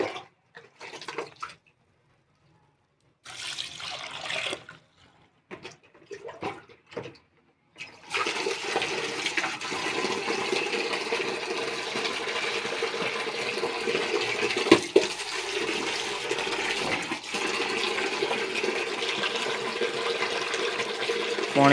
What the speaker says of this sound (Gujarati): તો મિત્રો આપણે પાણી રેડી દીધું હતું ખાડામાં.